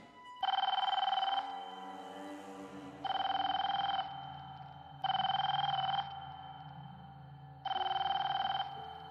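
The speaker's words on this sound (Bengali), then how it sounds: "ফোনটা বাজছে।" A telephone rings in four evenly spaced bursts of a bright electronic tone, loud and close, with brief pauses between them, as a sound effect.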